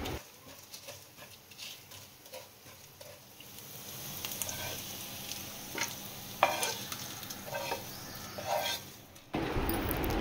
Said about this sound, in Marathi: त्यामध्ये 5-6 लसणाच्या पाकळ्या आणि थोडंसं आलं घेऊन चांगलं तेलावर परतून घेतलं आहे कांदा